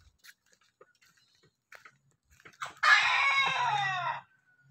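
Chickens of various breeds kept as backyard fowl: a loud, close rooster crow lasting over a second dominates, preceded by scattered soft clucks and small pecking sounds in an otherwise quiet yard.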